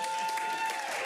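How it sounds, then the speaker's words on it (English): A brief burst of steady audience clapping, dense and continuous, with a faint sustained tone running beneath it. "so give us another round of applause."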